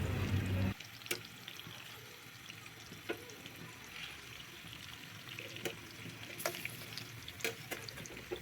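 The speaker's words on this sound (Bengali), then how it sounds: "তেলটা হালকা গরম হয়ে আসলে আমরা সেই মাখানো মাছগুলা ভাজার জন্য তেলের মধ্যে দিয়ে দিব।" Marinated hilsa fish fry in hot soybean oil in a pan, a soft, even sizzle with occasional sharp crackles and spits, fairly quiet and steady with no talking.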